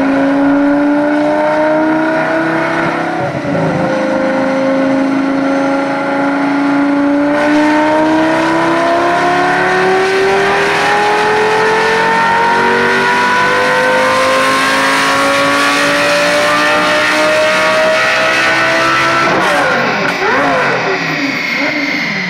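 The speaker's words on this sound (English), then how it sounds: "Lamborghini Gallardo." A Lamborghini Gallardo engine revs hard on a dyno, loud and close, its pitch sweeping up and down through repeated climbs with no talking over it.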